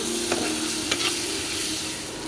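Dhoka and potol stir-frying in a pan with Kashmiri red chilli powder and salt, a loud continuous sizzle close up, with a couple of brief scraping stirs.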